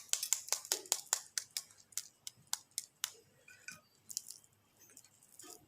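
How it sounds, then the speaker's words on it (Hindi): Homemade masala french fries snap and crackle as they are broken, a quick run of sharp, crisp crunches that thin out into a few scattered cracks. "आवाज़ देखिए कितना ज़बरदस्त क्रंची क्रंची आ रहा है।"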